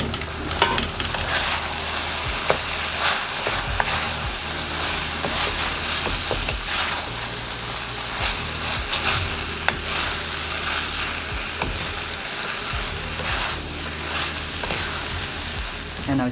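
Noodles stir-fried in a hot pan with ginger garlic pork, giving a steady loud sizzle with repeated scraping and tossing clatter throughout.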